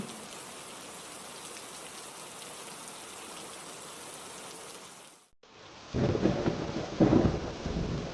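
Steady cartoon rain hisses for several seconds, then after a short break heavy rain returns with deep rolling thunder rumbling underneath.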